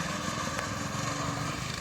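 A small cyclekart engine on a newly welded rear frame and new motor mount runs steadily at close range, a continuous buzzing drone with no talk.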